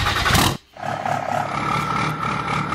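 A 1981 Krebs Yoda Crawler truck in the Spintires off-road game, its engine idling in a steady, loud rumble after a brief dropout near the start.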